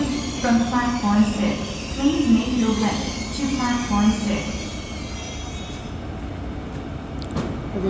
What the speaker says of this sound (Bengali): বুলেট ট্রেনটি ধীরে ধীরে যাত্রা শুরু করলো।